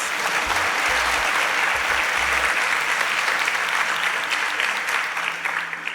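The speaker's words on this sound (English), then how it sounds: "A round of applause for our panelists." An audience at a Nigerian panel event applauds its panelists, a sustained, even wash of many hands clapping at close range that holds steady for several seconds before easing slightly at the end.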